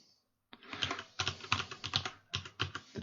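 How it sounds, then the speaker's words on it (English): Typing on a computer keyboard, entering text in Photoshop: a quick run of close, crisp key clicks in bursts with short pauses, after a brief silence at the start. "I just want to type the dangers of"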